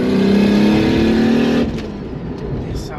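A Toyota Supra with a manual gearbox and single turbo revs hard and loud up close for about a second and a half, then the engine note drops back to a lower idle-like rumble.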